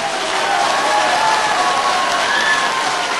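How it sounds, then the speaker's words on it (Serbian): Crowd applause at an outdoor political rally in a town square, a dense, continuous wash of clapping with some cheering, steady and loud throughout. "Da čujem pobjednički aplauz!"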